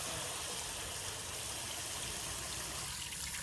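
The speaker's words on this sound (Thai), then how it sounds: "เทน้ำพี่" Water is poured out while a monk's alms bowl is washed, a continuous broadband rush and trickle that stays steady and close for the whole stretch, with no talk.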